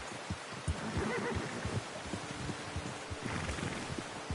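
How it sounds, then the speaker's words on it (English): A horse whinnies in the Western video game Red Dead Redemption, fairly quiet against a steady wash of rain and soft hoof clops, with no talking. "Hey, get that horse in line,"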